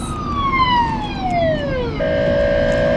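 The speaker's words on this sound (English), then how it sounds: "And the police, the ambulance. It's the ambulance." A loud, close ambulance siren wails in a long falling sweep, then switches to a steady high tone, with traffic rumble underneath.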